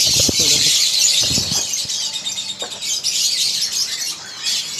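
Many small caged songbirds chirp and squeal densely at an Indonesian bird market, a constant high-pitched chatter with a few louder squawks, and some people talking close by underneath.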